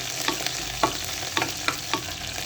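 Onions added to cumin in a hot pan fry with a low sizzle as a spoon scrapes through them in a steady rhythm of about six strokes. No one speaks.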